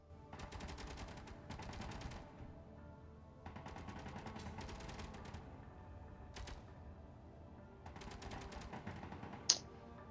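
Anti-infantry guns in the Space Engineers survival game fire rapid automatic bursts: several long rattling volleys separated by short pauses, with one brief burst in the middle and a sharp metallic click near the end.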